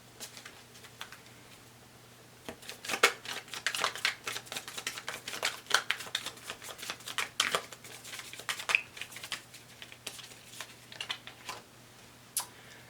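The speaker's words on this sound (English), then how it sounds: "Give it one more shuffle." Tarot cards being shuffled by hand, a steady run of soft, crisp flicks and taps in irregular bursts, close and fairly quiet with no talking.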